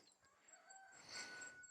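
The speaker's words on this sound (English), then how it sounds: "It's only the rooster singing." A rooster crowing faintly in the distance, one drawn-out call rising and holding near the end over a quiet background.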